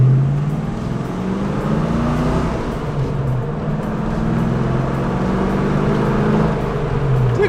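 A Ford Mustang GT drives on the road, its engine a steady, low rumbling drone from inside the cabin that swells slightly in pitch and holds constant throughout, with no talk.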